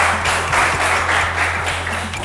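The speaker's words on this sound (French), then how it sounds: "Et on va applaudir pour Otni" A studio audience on a live TV game show claps in a steady, rhythmic wave of applause, fairly loud and close, with no talking over it.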